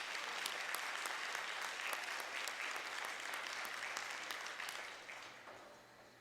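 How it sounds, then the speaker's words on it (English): Applause from the audience at a high school fine arts festival in Port Huron: a broad, fairly distant wash of many hands clapping that holds steady, then tapers off toward the end. "Let's give another applause to Mr. Jones, Mr. Beasley"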